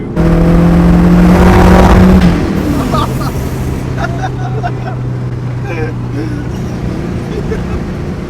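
A catless 10th gen Honda Civic Si roars loudly at a car meet, with a rev that rises and then falls back to a rumbling idle. Voices can be heard over the engine.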